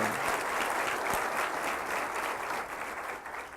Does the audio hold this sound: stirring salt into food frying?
no